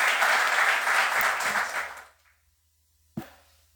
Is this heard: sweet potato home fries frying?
no